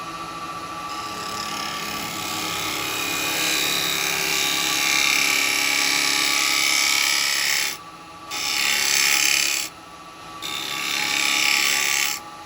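A small yew pot pourri pot being turned on a wood lathe, giving a loud continuous hissing cut as the chisel shears the spinning wood, dropping out briefly twice as the tool lifts away.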